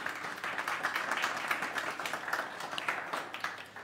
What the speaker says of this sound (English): A round of applause for Gwen.